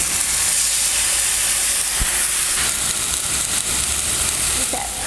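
Pork tenderloin sears in a hot pan with a loud, constant hiss and crackling sizzle that fills the whole stretch, a small clink of a fork near the end.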